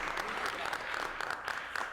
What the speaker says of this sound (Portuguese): palmas aqui.